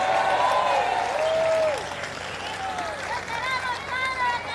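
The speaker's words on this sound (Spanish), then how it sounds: "Fuerte el aplauso para el Padre Luis Toro" A church audience applauds the priest Father Luis Toro with a loud, dense clapping burst for about two seconds, then the clapping fades and a voice carries on speaking over the last scattered claps.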